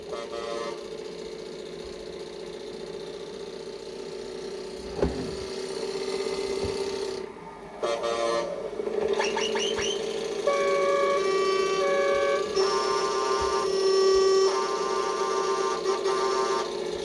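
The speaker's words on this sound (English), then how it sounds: "all the way up for the loud air horn, all the way down for the TGV whistle" A Tamiya Scania 770S 8x4 RC truck's sound module plays a run of horn sounds, including a loud air horn and a TGV-style whistle, as sustained tones that switch pitch and cut in and out over a steady motor hum.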